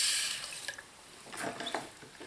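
Lye solution poured into a soap mixture in a crockpot, a brief liquid trickle and a few faint splashes and clinks, quiet and close with no talking.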